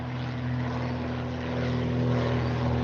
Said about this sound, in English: So these planes are doing touch and go